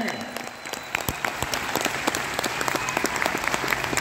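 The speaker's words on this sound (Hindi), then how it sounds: "एक बार जोरदार तालियां" A seminar audience at a motivational business talk bursts into loud, enthusiastic applause, many sharp individual claps standing out within a continuous wash of clapping that keeps going throughout.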